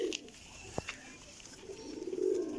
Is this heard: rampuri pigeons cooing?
yes